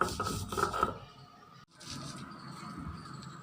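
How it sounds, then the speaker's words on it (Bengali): Salted onion, chili and garlic ground by hand on a stone for a yardlong bean mash, giving soft rhythmic rubbing and rasping strokes at close range, fading briefly before resuming, with no talk. "এখন এটাকে আমি বেটে নেব।"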